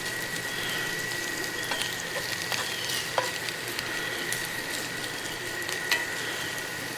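Potatoes fry in a hot skillet over a campground fire, a steady close sizzle running without a break, with a few faint clicks and scrapes on top.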